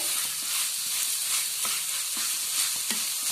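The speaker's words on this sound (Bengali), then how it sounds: "তো আমি এটা কিছুক্ষণের জন্য ভেজে নিচ্ছি" Chicken mince frying in a pan, a continuous close sizzle with occasional light stirring knocks, no voices.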